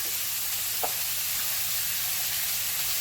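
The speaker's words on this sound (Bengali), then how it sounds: "মাছটা একটু ভালো করে ভেজে নিলাম" Steady, loud sizzling hiss of fish, including prawns, frying in a pan, continuous throughout with one small faint knock early on and no voices.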